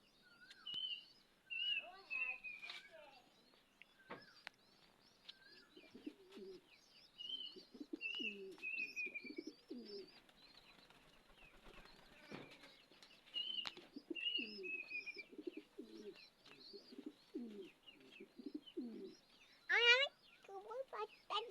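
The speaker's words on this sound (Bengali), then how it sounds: "কবুতরের বাচ্চা এটা কি কবুতর" Young pigeons coo in low, repeated phrases and let out thin, high chirps throughout, nearby and fairly close, with a sudden louder flurry of calls near the end.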